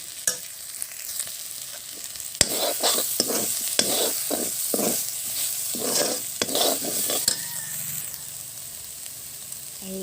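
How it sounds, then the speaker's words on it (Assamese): Ginger-garlic paste frying and being stirred in a pan while cooking a banana flower dish, a continuous sizzle broken by repeated scraping strokes of the spoon, close and clear with no talking. "আপোনালোকে আদা নহৰু ইয়াত দিব। এনেদৰে ভালদৰে ভাজি ল'ব।"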